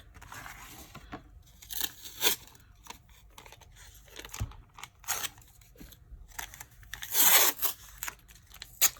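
Tape pulled and torn by hand while covering a wide notebook spine on chipboard, a few sharp rips and crinkles at close range, with quieter handling between.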